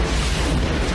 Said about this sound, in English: Shoot a bomb at it.